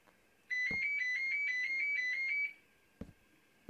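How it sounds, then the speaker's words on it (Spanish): A telephone rings indoors with a bright, warbling electronic ringtone that pulses steadily for about two seconds, then stops, leaving a few soft knocks and clicks in a quiet room. "está sonando el teléfono"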